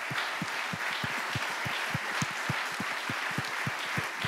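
Conference audience clapping at a round-table event, a fairly quiet, slightly distant patter of hands with a few sharper, more prominent claps keeping a loose, steady rhythm throughout.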